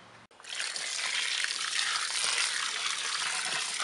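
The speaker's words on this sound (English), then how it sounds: "now it's time to fill this guy up with water" Water gushes steadily from a tap or hose into a garbage bin holding compost, a loud continuous rushing pour that begins abruptly after a short pause and continues without talk.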